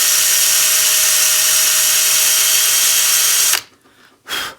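A power drill drilling out a plug on a Yamaha XJ650 motorcycle carburetor whines steadily at high speed, then stops abruptly and gives one more short burst.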